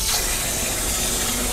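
Water runs and splashes steadily while hands are dipped in to wash, a close, continuous watery rush with no talking.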